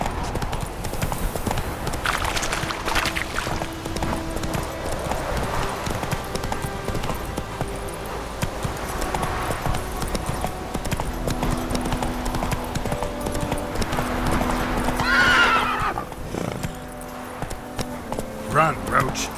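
Horse hooves clip-clop in a steady, close gallop rhythm through the whole run in The Witcher 3, with game voices and ambience underneath.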